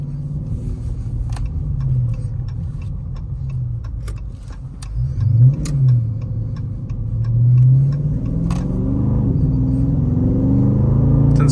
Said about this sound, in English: let's go for a quick drive in this 2019 Dodge Charger Scat Pack.